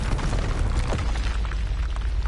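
Bombarda and Confringo spell explosions in the video game Hogwarts Legacy, a dense, continuous roar of booming blasts filling the whole stretch, loud and close, with no talking.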